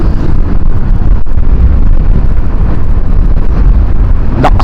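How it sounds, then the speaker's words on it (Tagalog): Strong wind buffets the microphone on an open road, a loud, continuous roaring rumble with no pauses, overwhelming other sounds. "Lakas ng hangin ngayon."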